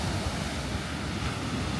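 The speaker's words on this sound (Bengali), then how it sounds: "সমুদ্রের ঢেউগুলো একটু বিশাল বিশাল।" Large sea waves break on a steep beach in Sri Lanka, giving a continuous, loud, close roar of surf mixed with wind buffeting the microphone, with no voices.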